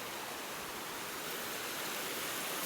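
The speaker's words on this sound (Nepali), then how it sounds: "खोलामा सानो पानी आएछ, धेरै ठुलो त आएको छैन" A small river stream flowing at a riverside, a steady broadband rush of water, even and moderately distant, with no voices.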